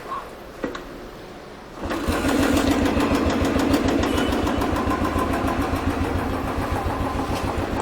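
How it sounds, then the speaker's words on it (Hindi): A Royal Enfield Thunderbird motorcycle starts on a single kick after a quiet moment, then settles into a steady, loud, pulsing single-cylinder idle that thumps evenly for several seconds. "तो हमारी गाड़ी पहली ही किक में स्टार्ट हो गई"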